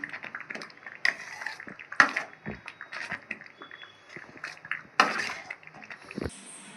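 Metal utensils clink sharply against a pan while upma is stirred, a few scattered distinct clinks over quiet background, with no talking.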